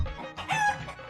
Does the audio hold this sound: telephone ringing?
no